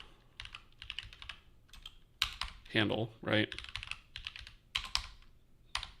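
Rapid bursts of typing on a computer keyboard, close crisp clacks in uneven runs, broken by a short stretch of someone talking in the middle.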